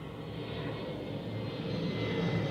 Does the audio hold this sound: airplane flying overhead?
yes